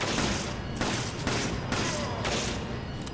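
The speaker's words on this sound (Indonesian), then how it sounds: "kita tembak teman-teman pakai di shotgun tuh" Shotgun blasts in Resident Evil 5, four loud, close shots at a steady rhythm about half a second apart, each a broad crack with a short decay over continuous game noise.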